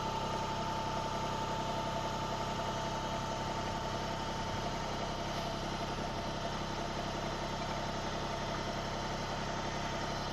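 A Mahindra-style MT125 tractor engine idles steadily and continuously at low volume during a backhoe install, a constant hum with no people talking.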